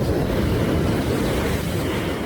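Ocean waves crash against a rocky fishing spot on the Northern California coast, a loud, steady broadband wash of surf from close by with no voices.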